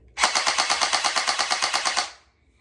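A blowback gel blaster pistol fires a rapid automatic burst of about fourteen evenly spaced, sharp clacking shots over two seconds, loud and close, then stops abruptly.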